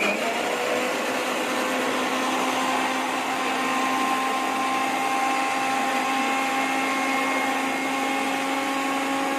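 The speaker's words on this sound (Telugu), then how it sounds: "సో పెరుగు తీసుకుని మిక్సీ జార్లో వేసుకుని కొంచెం మిక్సీ పట్టుకోండి." A mixie grinder churns curd in its jar to make buttermilk for majjiga charu, a steady loud motor whir with a constant high whine that runs unbroken throughout, no voices.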